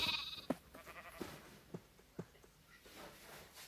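Minecraft sheep bleat intermittently against a quiet background with several short clicks and taps mixed in, the calls thin and somewhat distant.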